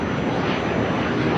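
A delta-wing fighter jet flying at the 2017 Dubai Air Show makes a dense, continuous roar, loud and steady throughout the brief stretch, with no talk.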